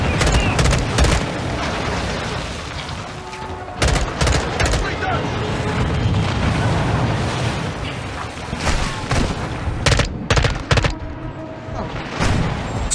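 Gunfire in the Modern Warfare 2 campaign mission "Dark Water": a dense, loud battle soundscape with repeated sharp shots and cracks over continuous rumbling combat noise, a voice briefly under it.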